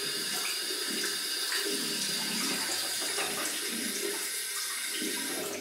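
Water runs steadily from a tap to warm a 1963 Gillette Slim Adjustable safety razor, a close, continuous splashing rush with no pauses.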